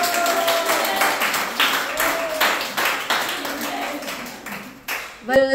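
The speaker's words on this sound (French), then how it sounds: "On l'applaudit." A crowd claps steadily in dense, continuous applause, with a voice briefly audible over it before it tapers off.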